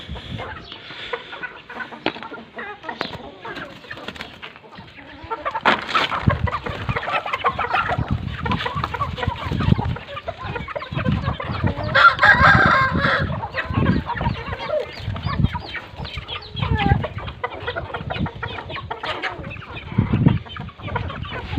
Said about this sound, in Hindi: तो मुर्गियों को खिलाते हैं।